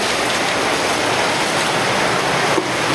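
Rainwater pours down steadily in a dense, loud, continuous splashing rush, like water spilling from a roof, with no voices over it.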